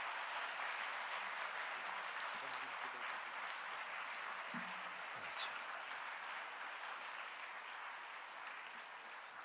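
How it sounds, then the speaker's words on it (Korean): A church congregation at a spring revival service applauds a pastor. The clapping is steady and moderately faint, holds for over nine seconds with a few brief murmurs, and softens gradually toward the end. "박수 한번 하겠습니다"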